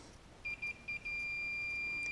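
A continuity tester's alarm sounds as its probe touches a ground lug: three or four short stuttering beeps, then one steady high tone that holds, thin and fairly quiet over light room noise.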